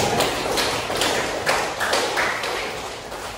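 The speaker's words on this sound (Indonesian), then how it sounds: "Tepuk tangan dulu pada" Students in a classroom clap for a classmate, a steady, close wash of hand clapping with a few sharper individual claps standing out, continuous through the whole short stretch.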